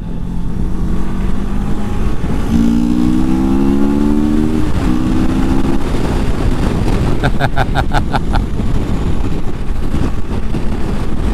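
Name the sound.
CFMOTO Adventura 650 motorcycle engine intake induction sound, revving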